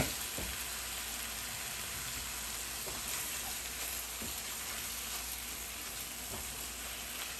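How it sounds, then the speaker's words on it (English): Chopped spinach stirred into spinach dal frying in a pan over a medium flame: a steady, even sizzle fills the whole stretch, with a few soft knocks and scrapes from the stirring. "I will also be adding my chopped spinach. Give it a quick stir."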